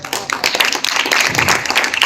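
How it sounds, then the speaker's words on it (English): Audience clapping at a youth summit event in Lüderitz, a dense burst of many hands applauding throughout, fairly loud and steady with no voices over it. "Let us give a warm round of applause to Gaob Christian once again"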